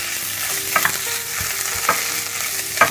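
Chicken with tomato puree being stirred in a hot pan, a steady sizzle broken by several scraping strokes of the spoon, close and clear with no talking.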